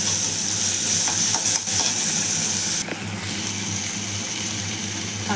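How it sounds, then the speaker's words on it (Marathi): Onion and tomato sautéing in a pan with a steady, close sizzle and occasional stirring scrapes, continuous and fairly loud with no voices. "कांदा परतत आला की टोमॅटो टाकायचा. टोमॅटो कांदा परतून द्यायचा"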